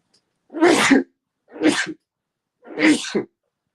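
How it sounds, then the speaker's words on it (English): Three separate sneezes from one person with a cold, close and loud, spaced about a second apart with silence between them. "apologies about that sneeze"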